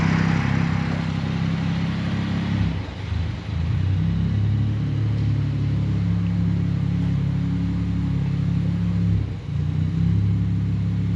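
A BMW 114i converted to M140i spec idles with a steady low rumble, its engine bogging twice with brief dips and stumbles before recovering, heard close with no talk.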